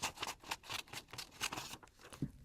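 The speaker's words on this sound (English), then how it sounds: "Next, you're going to cut out the circular shape with your scissors." Scissors snip through a circle of card in quick repeated bursts, a crisp rhythmic crunching that pauses briefly before one last soft cut.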